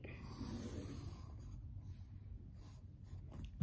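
A pencil sketches a large arch shape on a sheet of paper, a soft continuous scratching that runs close and quiet for several seconds.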